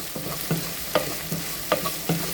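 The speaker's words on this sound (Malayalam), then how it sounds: "കുറച്ചും കൂടി നമുക്ക് നന്നായി വഴറ്റാം" Chopped garlic and onion sautéing in a pan for sambar, a steady sizzle broken by about five rhythmic scrapes of a spoon stirring against the pan, close and moderately loud, with no voice.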